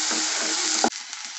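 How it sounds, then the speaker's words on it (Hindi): Chopped onions sizzle in hot oil in a pan for a crispy chilli potato dish, a steady close hiss that drops off sharply near the end as they are stirred. "प्याज को एक मिनट फ्राई कर लेंगे।"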